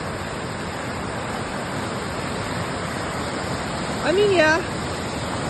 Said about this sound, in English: this is how bad the creek tends to get